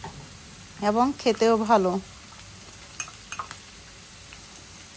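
Dried loitta fish frying in a pan with green onion stalks, a steady soft sizzle with a few stirring scrapes near the end, partly under a short stretch of speech at the start.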